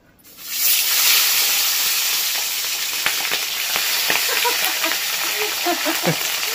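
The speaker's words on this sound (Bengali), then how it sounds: "ইয়া বড় মাথা আমি দিয়ে দিলাম তেলে।" A large salted, turmeric-rubbed fish head dropped into hot oil in a kadai, bursting into a loud, steady sizzle with scattered sharp crackles and pops, heard up close.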